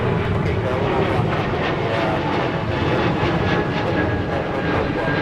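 An aircraft taxiing at a snowy Minneapolis–St. Paul airport during deicing operations, a continuous loud engine roar that stays steady throughout.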